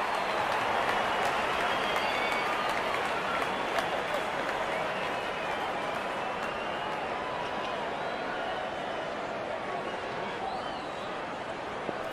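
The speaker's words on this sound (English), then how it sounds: "crowd is enjoying every bit of this action." Crowd noise in the cricket video game Real Cricket 22 during an India versus South Africa T20 match, a steady wash of applause and cheering under continuous commentary.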